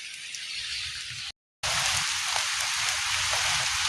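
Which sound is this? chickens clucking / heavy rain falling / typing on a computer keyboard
heavy rain falling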